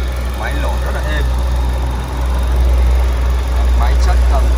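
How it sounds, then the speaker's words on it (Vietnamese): A 2011 Hyundai i20 with a 1.4 petrol engine idles with a smooth, steady low hum, and brief faint voices come through over it. "Máy nổ rất là êm."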